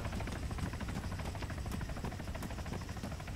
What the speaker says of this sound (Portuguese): Vem helicóptero.